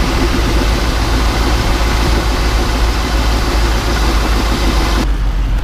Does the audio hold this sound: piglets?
no